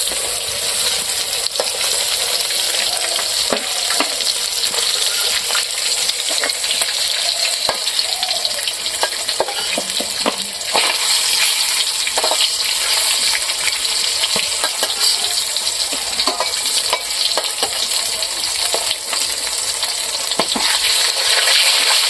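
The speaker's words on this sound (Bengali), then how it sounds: "প্রথম মাছ ভাজা খোলা হয়ে গেল। এখন আমি পরের খোলাটা দিয়ে দিচ্ছি।" Steady, loud sizzling of pangas fish pieces frying in oil in a pan for a village-style curry, with scattered crackles and pops heard up close and no talking.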